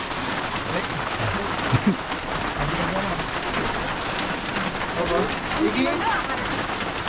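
Steady rain patters on a mountain trail on Mount Lawu, a continuous hiss with occasional nearer drips and faint background voices.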